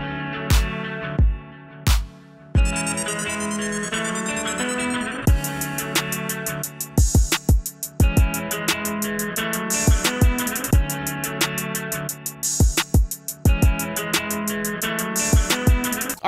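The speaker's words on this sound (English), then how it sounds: "I also added a crash and a riser just to kind of add a smooth transition" A hip hop beat with punchy kicks and snappy drums plays over a melodic loop, with a crash cymbal and a rising sweep building the transition.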